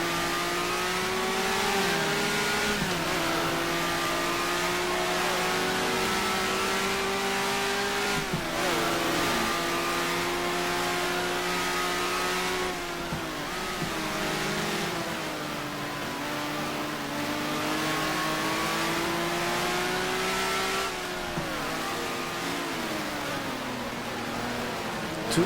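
A racing car's engine screams in GTR2 during an endurance race at Sebring, its pitch climbing steadily and then dropping sharply at each gear change in a repeated rising pattern, loud and continuous.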